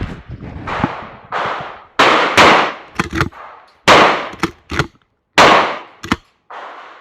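Shotgun fired three times in quick succession at a target through a chronograph on a range. Loud, sharp blasts ring out with short metallic clanks and echoing tails between them, and no talk is heard.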